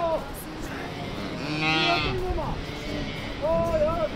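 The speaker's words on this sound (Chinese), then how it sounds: "小牛全部在找妈妈。" Yak calves in a large herd moo repeatedly with drawn-out calls, searching for their mothers. Several overlapping calls ring out close by while people talk in the background.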